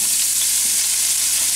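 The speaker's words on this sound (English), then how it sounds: "Now I'm going to put the potatoes in." Diced potatoes, cut into small pieces, fry in a pan for country-style scrambled eggs, giving a steady, close, hissing sizzle that continues without a break for the whole short stretch, with no talk over it.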